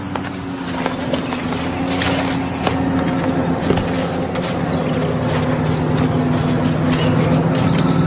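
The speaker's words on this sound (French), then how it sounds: "un bruit de moteur à midi, descends" A vehicle engine drones steadily at moderate loudness in a tense wartime scene set in Colombia, holding a constant low hum for the whole stretch with no voices.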